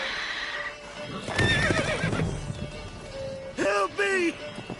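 A horse in a video game whinnies in rising, wavering cries, the strongest two near the end, with hoof sounds and a voice speaking over it.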